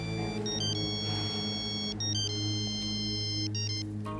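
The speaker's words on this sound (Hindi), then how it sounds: "ये फोन है, देखो वही नंबर है।" A mobile phone rings with a bright electronic ringtone, a short melodic phrase repeating several times at moderate volume over a quiet hum, with no talking.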